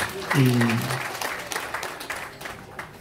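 Applause from guests at a traditional Rwandan wedding ceremony, a brief voice rising at the start before scattered clapping carries on at moderate volume beneath some talking.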